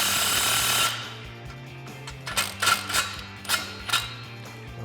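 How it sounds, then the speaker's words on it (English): Swivel socket on a short 15 ratchet tightening an exhaust clamp on a 2018-2019 Mustang GT axle-back, with a steady background hum and several quick close ratcheting bursts near the end. "I'm just gonna get on top of there and tighten up our clamp."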